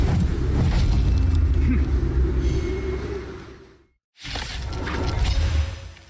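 Glass shatters loudly in the game Honkai Star Rail, a crashing break with a rumbling tail that fades into a brief silence before more game sound swells back in.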